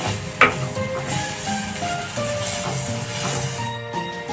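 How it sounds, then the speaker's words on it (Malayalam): Tomatoes added to a hot pan for a prawn dish give off a steady, close sizzle and hiss that runs throughout, with a brief clatter near the start and no talking. "ഇനി നമുക്ക് ഇതിലേക്ക് എടുത്തു വെച്ചിരിക്കുന്ന തക്കാളി അങ്ങ് ചേർത്ത് കൊടുക്കാം"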